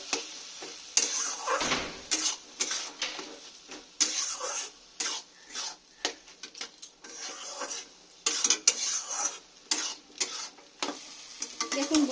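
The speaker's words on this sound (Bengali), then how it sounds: "ভালো করে আমি একটু আরও সঙ্গে কষে নেব যাতে কাঁচা গন্ধটা না থাকে" Shrimp sautéing with spices in a pan for a poppy-seed shrimp dish, sizzling close by with repeated scraping stirs and spoon clinks against the pan in uneven bursts.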